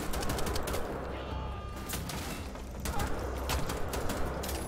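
Rapid bursts of gunfire in the video game Wolfenstein: The Old Blood, set in Frankfurt, crackling in repeated volleys over a steady mechanical background hum.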